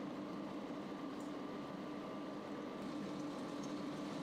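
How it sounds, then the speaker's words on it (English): Pork and sea cucumber simmer covered in braising liquid, a steady low bubbling hiss that stays faint and even throughout with no talking. "Cover and simmer for about 40 minutes."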